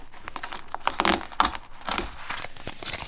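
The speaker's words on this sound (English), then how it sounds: "You can rip off that label" Thermal printer label being torn off, a quick close burst of crinkling, ripping paper sounds in uneven bursts.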